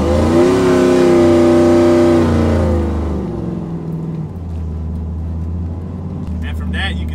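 A cammed 5.3 V8 single-cab truck with a swapped 4L80E transmission pulls hard, its loud engine note rising steeply, then dropping off as the revs fall and it fades into a lower, rougher rumble.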